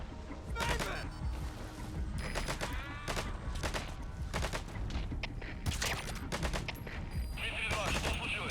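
Gunfire rattles in Metal Gear Solid V: The Phantom Pain as loud, repeated sharp shots and rapid bursts over a constant rumbling bed, with a voice speaking briefly among them.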